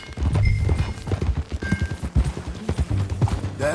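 Horses galloping in the Western video game Red Dead Redemption 2, rapid rhythmic hoofbeats thudding close and loud, steady and driving with faint tack jingles and no talking.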